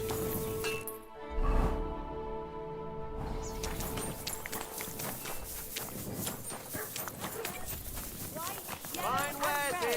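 Horse hooves clip-clop at a steady pace through a busy scene in Kingdom Come: Deliverance II, with speech and other game sounds layered over them.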